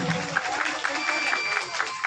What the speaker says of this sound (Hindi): मुखिया जी श्री संतोष बाबा जी को एक बार तालियों से सम्मानित जरूर करें